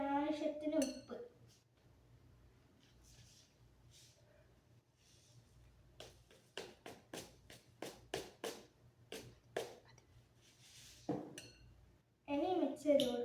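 Salad ingredients being stirred in a bowl, with a spoon clinking repeatedly against the dish in quick uneven taps. Someone speaks briefly at the start and again at the end.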